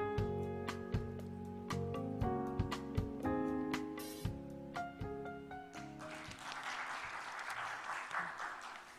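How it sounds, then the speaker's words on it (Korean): Audience applause at the 2020 National Brand Conference held with the World Knowledge Forum, welcoming a speaker to the stage; the clapping swells in over background music and fills the hall for several seconds, loud and sustained. "여러분 원장님을 큰 박수로 환영해 주십시오."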